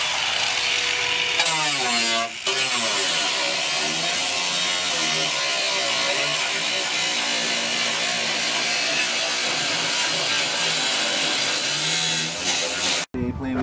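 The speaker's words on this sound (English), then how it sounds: "I know I'm using the wrong cut wheel" A cut-off wheel grinds a hole into the body of a Volvo 240 coupe, a loud, sustained whine that shifts pitch as it bites the metal and stops abruptly at the end, with talk over parts of it.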